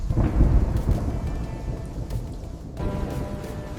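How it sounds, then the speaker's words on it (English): A heavy thunderstorm with steady rain. Deep, rolling thunder swells loudly at the start and then fades into a continuous wash of rainfall. "He stood alone in the storm, finally facing the lowest point of his life."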